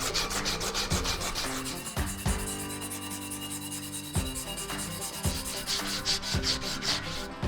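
A 1945 wooden fishing rod is rubbed with sandpaper in steady, close back-and-forth strokes, the gritty scraping running continuously under a background of music.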